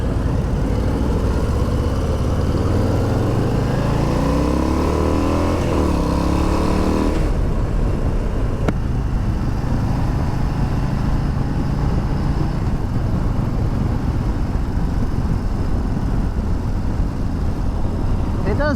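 A Harley-Davidson Low Rider ST motorcycle accelerates with a loud, deep engine note that rises through gears for about seven seconds, then settles into a steady rumble with wind noise as it cruises.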